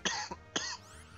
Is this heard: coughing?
yes